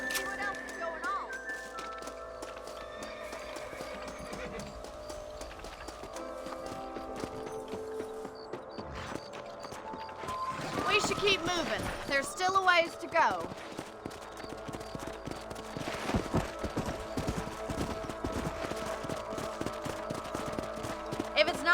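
Steady clip-clopping of horse hooves trotting along in Red Dead Redemption gameplay, with a voice talking over them and a busy background mix.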